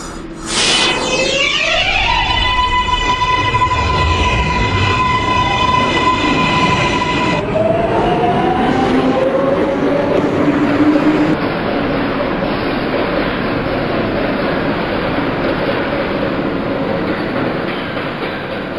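A simulated R188 number 7 subway train in the OpenBVE train simulator game pulls out of 5th Avenue station, with a rising electric motor whine, a door chime at the start, and steady loud rumble of wheels on track.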